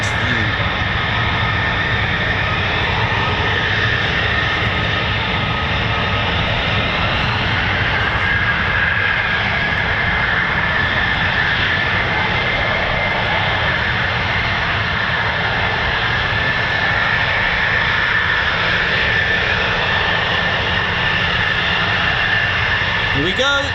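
Military jets, an F-15E Strike Eagle and F-35A Lightning of the USAF 48th Fighter Wing at an RAF base, roar through a steady, loud takeoff that fills the whole stretch, with voices talking over it.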